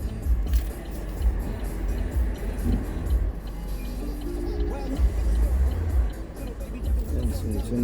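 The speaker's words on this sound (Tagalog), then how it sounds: "maraming sasakyan ngayon." Traffic on a busy road, cars and other vehicles rolling past with a steady low rumble and swells as they go by, with faint voices in the background.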